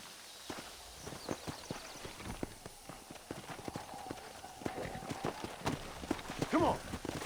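Horse hooves clip-clop in a Red Dead Redemption game scene, a steady walking rhythm of distinct close strikes running throughout under a voice, with a brief whinny near the end.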